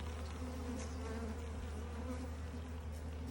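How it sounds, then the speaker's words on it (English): Bees swarm around a Flow Hive on a warm day, a dense, continuous buzz close to the microphone with no voices over it. "the bees are super active today because it's very warm"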